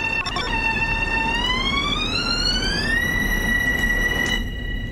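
A Long Island Rail Road train in Train Sim World runs at full speed through a blizzard, its motor whine rising steadily in pitch over a constant rumbling roar, loud and close.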